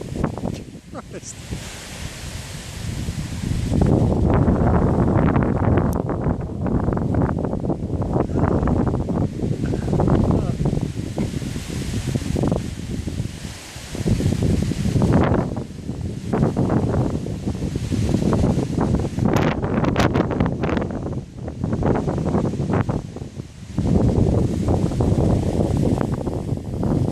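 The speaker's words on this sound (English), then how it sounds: "Is that windy enough for you?" Strong gusty wind roars in surging bursts during a supercell thunderstorm in Essex, buffeting the microphone loudly with brief lulls between gusts; a person exclaims at times over the noise.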